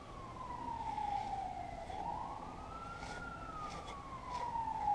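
A wailing emergency siren rises and falls in slow sweeps at a moderate distance, carried over a steady outdoor background rumble.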